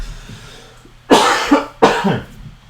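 Two sharp coughs, close and loud, about a second apart, with no talking.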